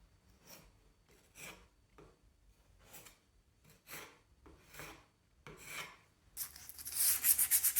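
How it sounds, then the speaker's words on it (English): Wooden window casing trim gets hand-sanded in a run of distinct rasping strokes, soft and close, about a dozen passes with short gaps, ending in a louder, brighter hiss. "I'm gonna sand these"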